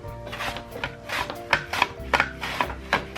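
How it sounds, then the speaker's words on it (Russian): Repeated slicing strokes of tomatoes into rings on a mandoline blade, a quick uneven series of crisp cuts, close up, with no voices. "Я буду их нарезать кольцами на своем любимом станке."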